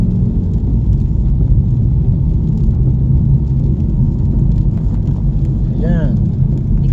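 Steady low rumble of a Toyota Supra sports car driving through city traffic, engine and road noise continuous from start to finish, with a brief voice-like sound near the end.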